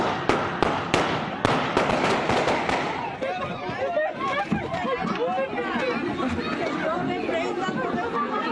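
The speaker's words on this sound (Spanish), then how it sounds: "Tiraron balazos aquí en el panteón, tiraron balazos." A rapid string of sharp gunshots rings out at a cemetery during a funeral, several in quick succession, then gives way to frightened crowd chatter and shouting.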